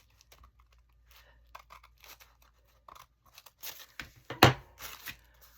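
Scissors snipping through paper while trimming an envelope pocket for a slanted craft pocket, a few quiet, scattered cuts and crinkles that build to a sharper, louder snip near the end.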